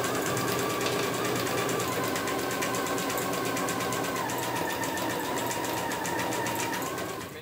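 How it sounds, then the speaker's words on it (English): An embroidery machine stitches a tote bag with a steady, fast mechanical whirring and a dense rapid needle rhythm. It runs loud and unbroken throughout, then eases off at the very end. "And then I like to back up about 10 stitches and then start again."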